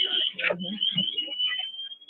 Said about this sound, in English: that's the alarm to let them know that they're out of oxygen or getting ready to run out of oxygen